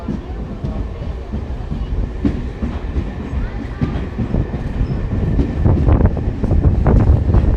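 The Narmada Express pulls into Umaria railway station with a rumbling roar and rhythmic clatter of wheels that builds steadily louder, along with wind buffeting the microphone.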